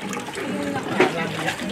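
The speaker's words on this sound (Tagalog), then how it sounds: "Ito yung tubig na pinagkukunan namin." Water running and splashing at a community water source in a Philippine slum, a steady trickling gush heard under nearby talking voices.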